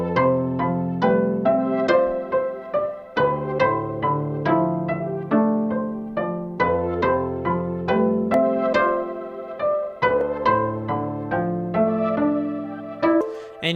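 A synth pad plays sustained, wavy texture notes with some dissonant intervals in an underwater-style video game melody, the chords swelling and shifting steadily with no one talking.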